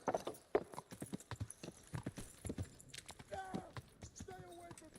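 Horse hooves clip-clop in a steady walking rhythm in the medieval game Kingdom Come: Deliverance, close and clear, with other game sounds and faint voices around.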